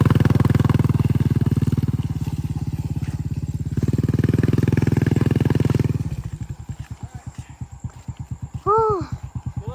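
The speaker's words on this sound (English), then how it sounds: "I can barely get the motorcycle up the mountain either" A motorcycle labours up a slippery mountain road, its engine pulsing loud and close, then dropping to a rougher, chugging low rhythm as it struggles, with a voice briefly calling out near the end.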